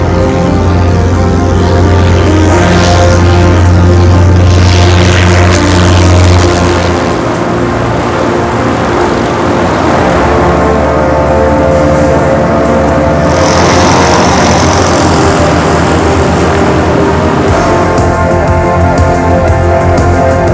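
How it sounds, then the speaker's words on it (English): Loud, continuous droning of racing propeller aircraft engines at the 1989 Schneider Trophy air race, steady and close overhead, with the pitch shifting slightly as they pass. "26 planes going for the remaining places in the final."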